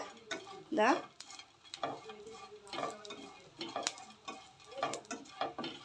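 Dried shrimp powder frying in a pan for a Palakkad-style fish curry, stirred with a utensil that scrapes and knocks against the metal in irregular bursts over a soft, steady sizzle, close and moderately loud.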